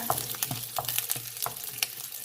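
An egg frying in a pan for fried rice gives a steady close sizzle, broken by repeated sharp scrapes and clicks of stirring, with no voices.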